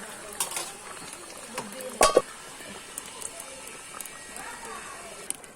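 Country chicken curry stirred in a pot on a clay stove: quiet scraping and clinks of a spoon with one louder clatter midway, close by, over faint bubbling and low background noise.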